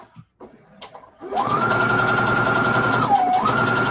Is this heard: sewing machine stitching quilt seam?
yes